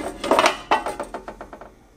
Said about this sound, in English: So you put the pot in